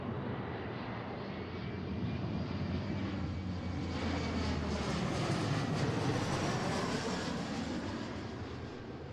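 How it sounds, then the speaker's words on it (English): An Airbus A321neo jet airliner on final approach to land at Seattle makes a loud, steady engine roar that swells slightly toward the middle and holds broad and continuous throughout, with no voices. "we have another, it's an A321 from Chicago. So we got a decent amount of aircraft coming in"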